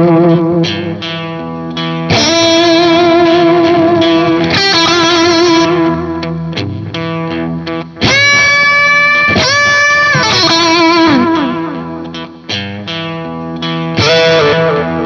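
Electric guitar played through a Wampler Black '65 Vintage Overdrive pedal, ringing chords and melodic phrases with warm distortion and reverb trails, loud and up close, with brief pauses between strums and no voices.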